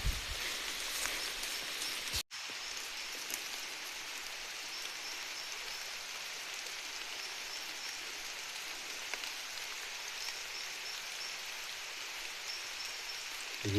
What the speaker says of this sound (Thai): ได้ยินแต่เสียงฝนนะพี่น้อง